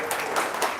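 Brief burst of audience applause at a religious talk in Indonesia, a dense crackle of many hands clapping together, steady and moderately loud throughout.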